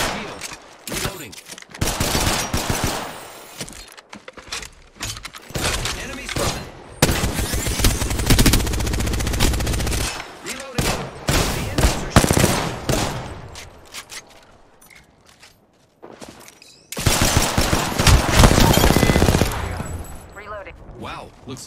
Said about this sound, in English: opening fire on the enemy.